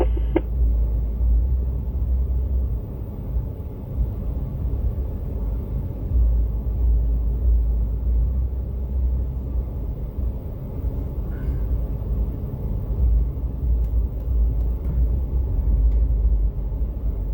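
A truck rumbles beneath elevated train tracks on a Chicago street, a deep continuous low-frequency drone with steady traffic noise throughout, fairly loud and without speech.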